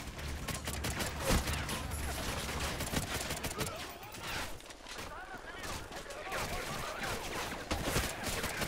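Gunfire from suppressed weapons in Call of Duty: Ghosts pops and crackles in rapid bursts, with a sharp louder shot early on, while someone talks over the exchange.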